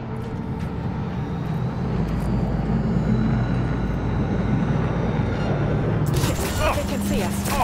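A drone drones steadily overhead in the Cyberpunk 2077 Phantom Liberty video game, a loud continuous engine hum with a rising whine near the end, heard alone.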